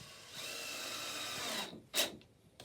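A power drill pre-drills a thin wooden fence picket, whirring steadily for under two seconds, then stops, followed by a short sharp knock and quiet.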